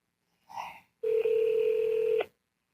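A phone call: a short dialing tone, a brief pause, then one long, steady electronic ring tone, clear and close, with no voices.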